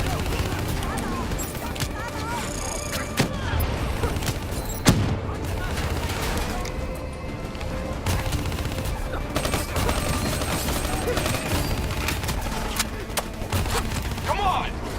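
Swarm launcher and gunfire in the video game Call of Duty Black Ops 3, a dense fusillade of shots and blasts running steadily throughout under soldiers' radio chatter.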